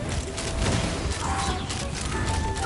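Bursts of fireworks explosions in the video game Genshin Impact, a dense crackling fusillade of booms with scattered whistling tones, loud and continuous for a couple of seconds.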